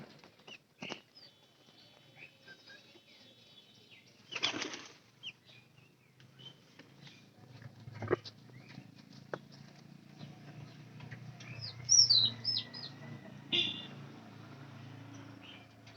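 A mating pair of pigeons at close range, with scattered bursts of wing flapping and soft shuffling, a few brief higher calls and faint background noise between the movements.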